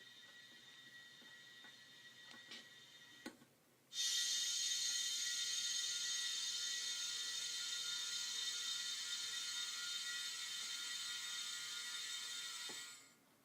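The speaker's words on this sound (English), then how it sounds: "there's a valve over here that you can release and let the air in, and you can hear it" Air rushes into a vacuum chamber through an opened release valve, a sudden loud, steady hiss that bursts in after a few faint clicks and holds for about nine seconds before tapering off.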